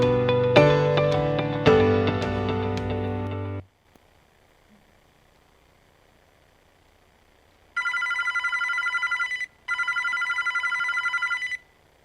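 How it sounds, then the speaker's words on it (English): Telephone ringing for an incoming call: a loud chime-like electronic melody plays and cuts off, then after a quiet pause a buzzy electronic ring sounds in two bursts separated by a short gap. "You get a phone call, it says Pima County Sheriff's Department with the phone number on it."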